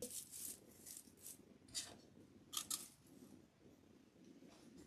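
Scissors trim paper in a run of faint, quick snips and crisp cuts, close by, with no talking.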